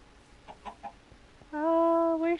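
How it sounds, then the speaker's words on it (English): Minecraft chicken clucking in the video game: a few short soft clucks, then a loud sustained harmonic squawk up close, with no talk over it. "It's the almighty chicken."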